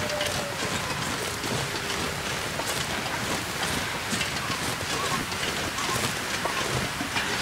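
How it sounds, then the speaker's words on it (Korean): Wind in the survival video game The Long Dark, a steady loud whooshing gale that blows without pause, dense and hissing with faint gusty flutters throughout and no voices over it. "지금 이 순간에 바람이 불면 어떡하냐?"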